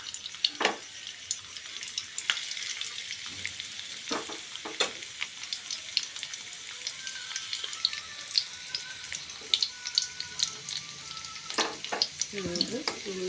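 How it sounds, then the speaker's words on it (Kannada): Fresh ginger and garlic fry in hot oil in a pan for gobi manchurian, a steady close sizzle with occasional scraping stir strokes and faint clinks throughout. "ಫ್ರೈ ಆಗಿದ್ರೆ ಹಸಿ ಶುಂಠಿ ಅದ್ರಾಗ ಬೆಳ್ಳುಳ್ಳಿ ಹಾಕ್ತೀನಿ ನೋಡಿರಿ"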